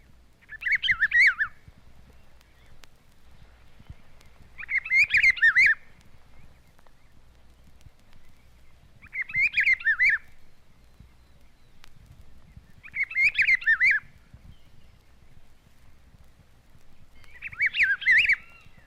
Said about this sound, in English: along the borders of woods, the rufous-browed pepper shrike sings this cheerful song.